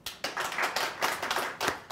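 An audience at a Mind Gym talk claps, scattered hands in uneven bursts, fairly close and loud.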